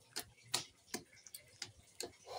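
A potato and squash curry with ghee is stirred in a pan, giving about six sharp, faint taps at an uneven pace, each short and clicky, with no voices.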